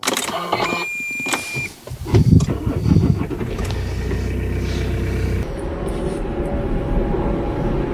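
Car interior on an early morning drive, with mechanical thumps and a starting engine giving way to a steady low engine rumble and road noise, no talking.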